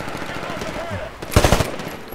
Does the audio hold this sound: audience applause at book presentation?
no